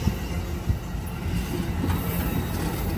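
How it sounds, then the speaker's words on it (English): Amtrak Capitol Corridor train #737 rolls into Oakland Jack London Square station with a loud, steady rumble of wheels on rails and faint rhythmic clatter, heard close and without talk. "they got a train arriving"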